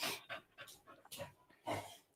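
Dogs panting softly nearby, with faint, breathy, rhythmic puffs of air repeating over a couple of seconds and no voices.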